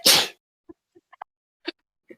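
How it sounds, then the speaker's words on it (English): A single loud, sharp sneeze bursts out close to the microphone, followed by a few faint small clicks and rustles in otherwise near silence. "I need to sneeze."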